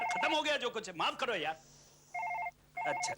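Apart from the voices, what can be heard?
telephone ringing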